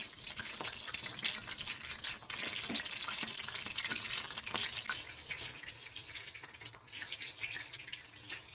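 Chicken frying in a pan while salan curry is prepared, a steady close sizzle and crackle with occasional stirring scrapes and small liquid pops, no talk.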